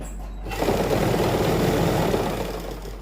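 Sewing machine stitching the side seam of a suit, a steady close, continuous mechanical whirr that starts after a brief quiet moment and runs evenly to the end, with no voices.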